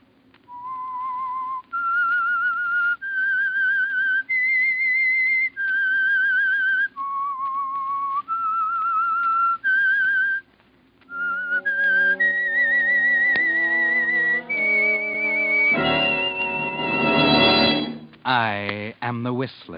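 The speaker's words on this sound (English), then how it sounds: "That whistle is your signal for the Signal Oil Program" A whistled melody serving as the signal for a radio mystery program, clear and close, moving through a series of held notes and ending in rising, fluttering trills over a faint backing.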